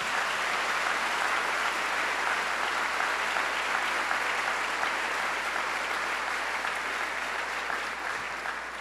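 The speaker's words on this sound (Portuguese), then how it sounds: "Quem pode aplaudir? Pode." A church congregation applauding during a Catholic Mass homily on the Eucharist, a steady, moderately distant wash of clapping sustained throughout without break.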